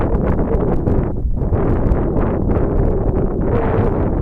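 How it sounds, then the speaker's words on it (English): Steady wind gusting outdoors at an RC plane flying field, blowing about 6 to 8 miles per hour, a continuous loud rush and buffeting across the mic with no talk. "Say I've got a 6 to 8 miles per hour wind out here right now."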